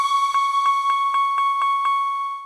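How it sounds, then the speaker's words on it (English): The Dynamic Voices preset of the Arturia CMI V synth plugin holds a steady bright tone that pulses in a regular rhythm of about seven even beats, then fades out at the end, with no talk. "I found this cool preset called Dynamic Voices, which sounds like this."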